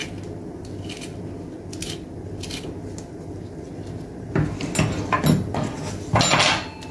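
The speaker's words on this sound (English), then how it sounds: "I'm going to go ahead and cut some scotch bonnet pepper on it" Knife slicing scotch bonnet pepper on a board while cooking Jamaican rice and peas with jerk chicken, giving a few sharp, close chopping taps near the end over a steady low kitchen hum.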